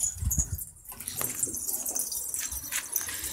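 Pigeons in a loft give soft, low coos and brief rustles of wings against a constant background hiss, fairly close and fairly quiet, with no speech.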